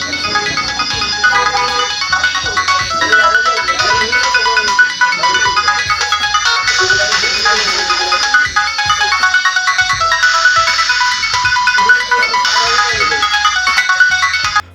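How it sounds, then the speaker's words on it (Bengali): A Symphony button phone plays its ringtone loudly and continuously, a bright electronic melody of repeating tones that fills the whole stretch. "আমরা একটু আপনাদের রিংটোনটা বাজিয়ে শোনাবো যে এই ফোনটির রিংটোনের সাউন্ডটা কেমন হবে।"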